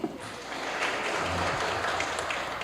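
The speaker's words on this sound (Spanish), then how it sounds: "a quien saludamos con un fuerte aplauso" An audience at a law institute inauguration applauds to welcome a speaker, a dense, sustained wash of clapping from a crowd that holds steady throughout, with no one talking over it.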